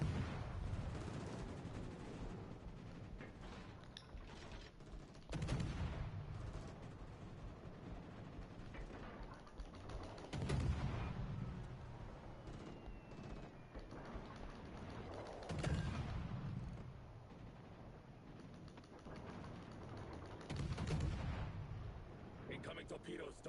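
Heavy battleship guns boom in World of Warships: Legends, four big salvos spaced about five seconds apart, rolling over a constant low engine and sea rumble.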